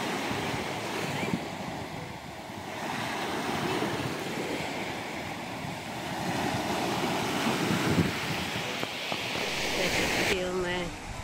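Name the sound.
sea waves breaking diagonally on the shore in Sicily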